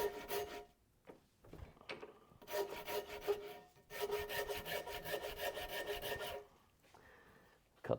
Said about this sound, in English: we'll sand this level